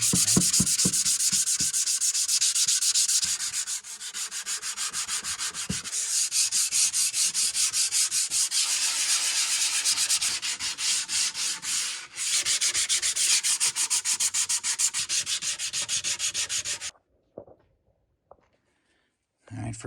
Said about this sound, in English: 60 grit sandpaper, which I do not recommend doing this at home. 60 grit pad.